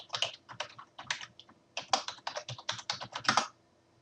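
Rapid typing of user information on a computer keyboard while logging into a remote desktop, with quick key clicks in two short bursts and a brief pause between them, close and clear, no voices.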